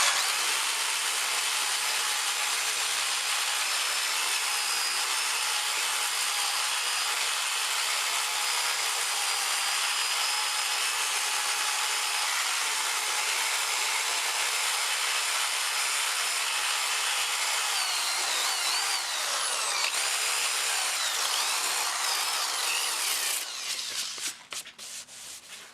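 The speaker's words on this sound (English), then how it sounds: "I'm going to do that, the bulk of it anyway, with the trusty drill and with the sander pad on it." A drill fitted with a sanding pad works over a mandolin back, a steady, close, abrasive whir that runs evenly for over twenty seconds, then winds down and stops in a few choppy bursts.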